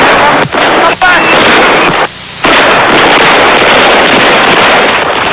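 Dense, relentless bursts of machine gun fire fill the scene near and loud, with brief gaps in the volley before the shooting resumes, amid a chaotic crowd at a rally stage.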